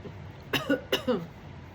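A person coughs twice in quick succession, close and fairly loud, then it trails off into quiet room tone with no speech.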